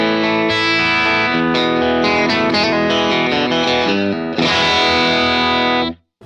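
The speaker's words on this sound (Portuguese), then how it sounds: "E você vai abrir um pouquinho da distorção desse pedal, deixar ele um pouquinho mais crunchado." Electric guitar played through a Strymon Iridium amp modeler with the pedal's distortion turned up for a crunchy tone: loud, sustained chords and quick note runs, ringing out before cutting off abruptly at the end.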